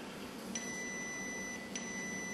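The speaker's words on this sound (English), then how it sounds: "and the beep to say it's on" An electronic dog collar gives two short, clear, high-pitched electronic beeps about a second apart as it switches on, faint and close against a low background hum.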